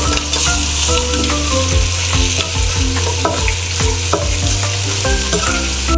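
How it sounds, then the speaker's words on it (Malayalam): Anchovies frying with onion and coconut in a pan give a loud, steady sizzle, with repeated stirring scrapes and clinks sounding throughout; no one speaks. "നമുക്ക് വറുത്ത മീൻ ഇതിലോട്ട് ഇട്ട് കൊടുക്കാം."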